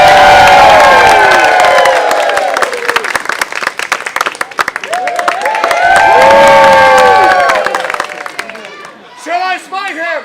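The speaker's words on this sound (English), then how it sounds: "As we bow, everyone will cheer extremely loud for you." A loud crowd roars, cheers and claps at a theatrical performance, with shouted voices over sustained applause that dips midway, swells again, then fades out.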